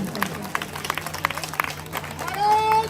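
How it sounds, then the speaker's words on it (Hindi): A crowd clapping during a political speech in Delhi about Prime Minister Modi: scattered, fairly close claps rise into brief applause while voices carry on over them. "तो ताली बजाओ।"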